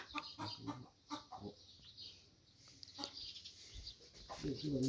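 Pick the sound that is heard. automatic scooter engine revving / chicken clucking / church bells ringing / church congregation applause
chicken clucking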